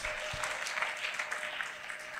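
A church congregation claps together in a steady, dense wash of applause that fills the room from start to finish, with no voices rising above it.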